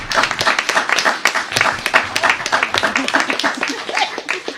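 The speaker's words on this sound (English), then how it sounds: "let's have one more round of applause for the Imagination Center" A room full of people applauding the Imagination Center at a city budget news conference, a dense spread of individual claps with some laughter and voices mixed in, fairly close and steady throughout.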